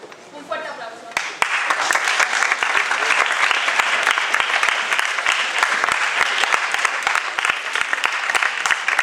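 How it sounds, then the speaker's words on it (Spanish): Applause for a student project team from Álvarez Cubero High School, a dense, lively crowd clapping that breaks in abruptly after a brief spoken moment at the start and continues strongly throughout. "Un fuerte aplauso."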